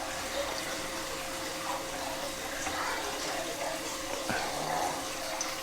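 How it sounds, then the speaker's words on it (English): Water pours and splashes into a reef aquarium sump as the system starts up, a steady wash of moderate level running throughout. "everything's starting up, and I'm just gonna get some water in here"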